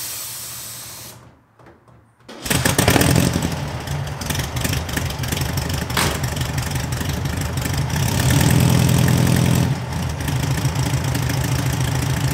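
A BMW 700 engine runs roughly after a motor swap, with a brief stutter and near-silence before it catches, then a loud, uneven, near drone with hissy bursts and a swell late on.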